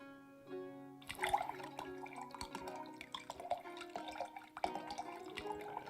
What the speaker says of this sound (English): pour my wine properly